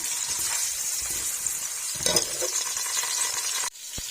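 Long-chopped onions fry in hot ghee for a Pakistani mutton pulao, giving a steady bright sizzle with occasional stirring scrapes, close and continuous before a sudden drop near the end.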